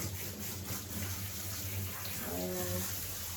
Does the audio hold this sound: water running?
yes